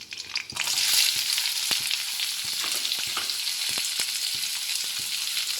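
Chopped onions and curry leaves sizzle steadily in a hot pan with salt, a continuous close frying hiss broken by occasional light stirring clicks, with no voices.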